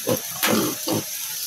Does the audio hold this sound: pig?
yes